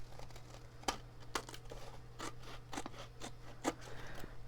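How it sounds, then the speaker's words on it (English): Scissors snipping and paper crinkling along the edges of a paper cake plate craft, a series of short quiet cuts and rustles with a steady low hum underneath. "I guess we have to cut the cake plate anyway"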